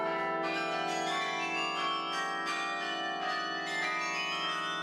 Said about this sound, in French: Avec ses 61 cloches, ce carillon fait partie des plus importants carillons de France.